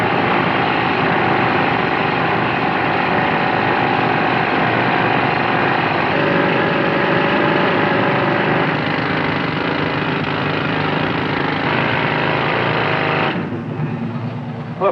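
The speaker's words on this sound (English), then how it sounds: "Start drilling." A rock drill running at a mining or blasting site, a loud, continuous mechanical roar and rattle that holds steady for most of the stretch before dropping off near the end.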